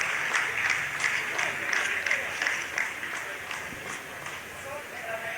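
Scientists in the Chandrayaan-3 mission control room break into sustained applause as the lander's descent phase completes, a dense, steady clatter of many hands, with a voice talking over it.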